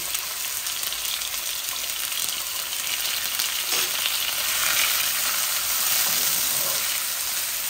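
Onion and garlic sizzle steadily in a small amount of hot oil as tilapia fish is fried, giving a dense, even, close-up crackle throughout with no talking.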